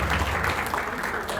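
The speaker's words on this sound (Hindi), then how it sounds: "उनके लिए एक जोरदार तालियां।" Audience applause at a youth festival, a brief burst of loud, crowded clapping that fills the space evenly with no pause.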